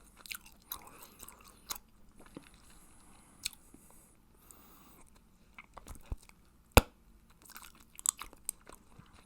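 Hubba Bubba strawberry watermelon bubble gum is chewed close to the mic, with soft, moist squishing and occasional sharp smacks scattered over a quiet background.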